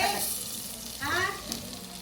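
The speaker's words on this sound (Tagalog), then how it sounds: "Piniritong mantika." Cooking oil fries in a pan with a soft, steady sizzle, heard faintly and close, with a brief stir partway through.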